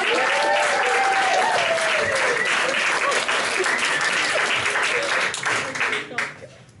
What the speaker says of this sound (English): a huge round of applause for our date number